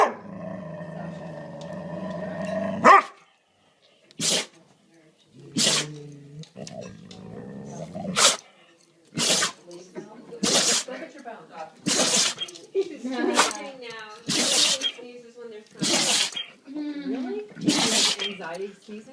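A dog sneezes several times in sharp, close bursts spaced a second or two apart, mixed with snorts and a low growl, while a person talks in between.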